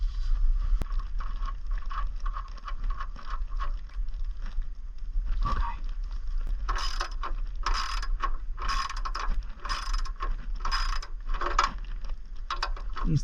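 A ratchet clicks in quick repeated bursts while tightening the drain nut during a van oil change, out in the Nevada desert; the ratcheting is close and fairly loud, with pauses between runs of strokes.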